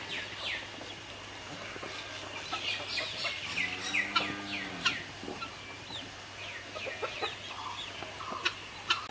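A hen clucks in short, scattered calls close by, with one longer drawn-out cackle in the middle and birds chirping faintly around it in a backyard coop with growing chicks.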